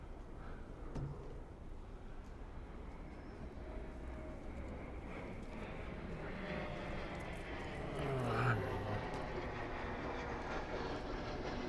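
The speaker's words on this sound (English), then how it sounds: "there goes a jet taking off from Francis S. Cabreski County Airport" A jet airliner climbs away from Francis S. Gabreski County Airport near the Westhampton rail station on Long Island, heard as a distant broad roar that slowly swells and peaks late before easing, with no talk.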